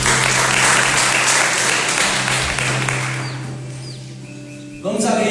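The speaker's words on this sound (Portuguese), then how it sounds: "Palmas para o livro." A crowd claps loudly and steadily, the applause gradually thinning and fading before a voice begins at the end.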